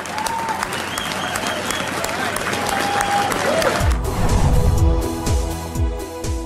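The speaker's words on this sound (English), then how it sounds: "Let's give them the round of applause that they deserve for building this project." A crowd applauding loudly and steadily for the builders of Boston's Big Dig tunnel project, with some cheering and scattered voices rising toward the end.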